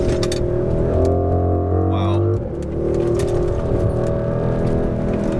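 Mercedes-AMG GLE 63 S Coupe, 2021, with 4MATIC Plus all-wheel drive, engine droning steadily as it drives, then easing off with a brief dip, with someone talking over it throughout.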